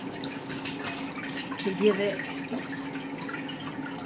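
Water poured over recycled paper pulp on a screen for handmade paper, a steady splashing trickle under a person talking.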